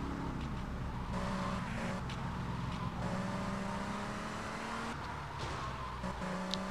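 A car engine in the Vice City video game hums at moderate revs as the car drives along, with shifting pitch and occasional bumps, quiet and steady throughout.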